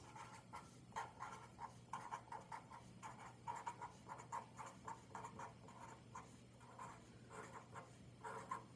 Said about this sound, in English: We're gonna write out our multiples of 8 since that's our divisor.